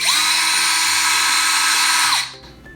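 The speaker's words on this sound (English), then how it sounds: "Drill a small hole in one side of the bottle cap" A high, whining drill spins steadily for about two seconds boring a small hole in a plastic bottle cap, then winds down and stops.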